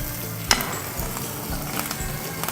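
Butter sizzling in a pan with herbs and garlic as a red snapper steak cooks, a steady close hiss with a sharp clink near the start.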